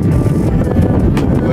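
Hot summer wind blowing outdoors in Qatar buffets the microphone with a loud, steady low rumble that lasts the whole moment, with no voices.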